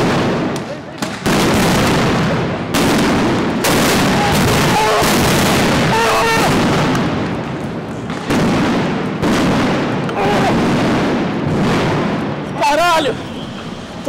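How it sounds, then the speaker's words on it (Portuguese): Police bombs burst repeatedly near the press at a street protest, loud sharp blasts at irregular intervals over constant crowd noise and shouting, with people talking throughout. "eles começaram a soltar bombas na região onde estava a imprensa"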